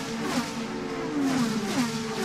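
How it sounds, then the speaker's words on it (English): IndyCar race cars lapping the Indianapolis Motor Speedway during Indianapolis 500 practice, engines screaming at high revs, with pitch sweeps as cars pass at a distance, moderately loud and steady with no talk. "Let's listen to the cars."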